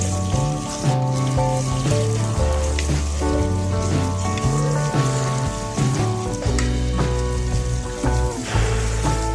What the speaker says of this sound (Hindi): प्याज को हम भूनते रहेंगे, आहिस्ता आहिस्ता चम्मच हिलाते रहेंगे ताकि नीचे लगे नहीं